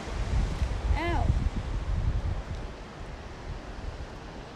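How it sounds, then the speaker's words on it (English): Steady broadband roar of ocean surf washing onto a beach, close and continuous with wind buffeting the microphone, and a brief high voiced chirp near the start. "You can hear the ocean."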